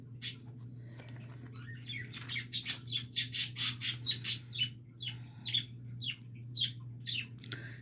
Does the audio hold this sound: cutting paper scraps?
no